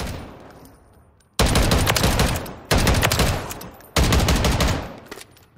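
An ACR .450 Bushmaster rifle in Call of Duty fires full auto in three loud, heavy bursts. Each burst is a fast stream of thumping shots, with short pauses between them.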